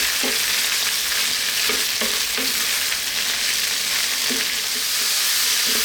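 Mushrooms frying in a pan for a vegan potato mushroom curry, stirred often on steady heat: a constant close sizzle with repeated scraping stirs at irregular intervals, no talking.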